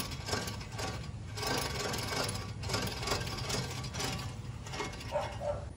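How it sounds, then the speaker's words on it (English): Continuous grinding, rubbing rumble from a bad front wheel bearing on a 2003 Lincoln Town Car, steady and moderately faint with a slight rhythmic rise and fall. "You can hear that we have a bad bearing."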